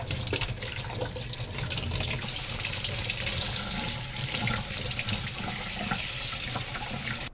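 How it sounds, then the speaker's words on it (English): Tap water runs over a houseplant's roots to rinse off soil, a steady close splashing stream with shifting trickles that carries on alone throughout. "I would just run some water over here, over the roots, just to get rid of more"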